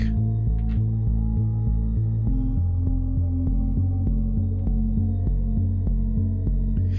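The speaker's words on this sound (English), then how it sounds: "it's the sound you get when you cut an audio wave at the wrong spot with the bass turned up" Low, throbbing bass notes pulse in a steady pattern, each marked by a sharp little click at regular intervals, close and dry.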